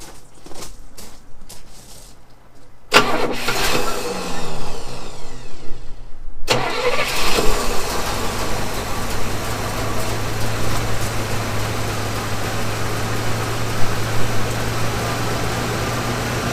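A 1978 Oldsmobile Toronado XS barn find, its big V8 sitting for decades, cranks with a few clicks, fires up and settles into a steady, loud running roar close by.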